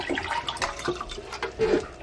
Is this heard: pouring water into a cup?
yes